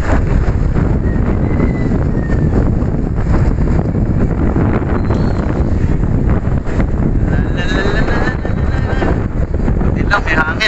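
Strong wind buffets the microphone as cyclists ride near a dike toward Mount Arayat, a loud constant roar and rumble throughout.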